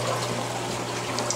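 Fresh salt water pours continuously in a steady, close rush for a coral dip, with no voices over it.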